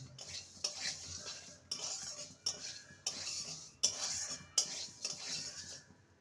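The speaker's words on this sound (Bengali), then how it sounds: "শুকনো খোলায় মুগ ডালটাকে ভেজে নেব" Moong dal dry-roasting in a pan, stirred with a spoon: a rhythmic series of scraping, rattling strokes, each a short burst with brief pauses between, close and moderately loud with no talking.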